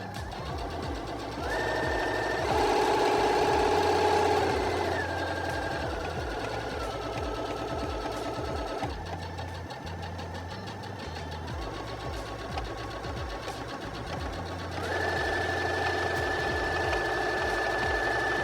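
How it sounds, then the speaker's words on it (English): A Singer 6805C sewing machine runs steadily for a long stretch, its whirring motor stepping up to a faster, higher pitch and back down to a slower hum as the speed lever is moved, with no talking. "And as I sew, I'll move it over to the right and show you fast speed, and then we'll come back down to slow speed again"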